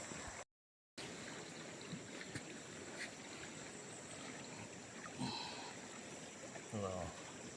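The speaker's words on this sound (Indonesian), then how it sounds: "Pemandangan air deras." Fast-flowing water of a large river rushes as a steady broadband roar, with a brief drop to silence near the start and a few faint voices and small sounds poking through.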